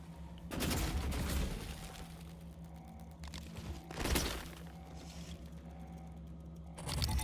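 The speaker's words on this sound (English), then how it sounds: "Let's try and get him with a glue gun." Glue gun firing in the video game Prey, heard as loud bursts with a mechanical edge, each lasting about a second or more, spaced across several seconds with a low hum in between.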